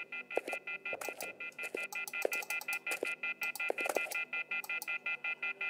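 Phone beeping in The Wolf Among Us video game: a rapid, regular series of short electronic beeps repeating steadily over a constant tonal hum, moderately loud and alone.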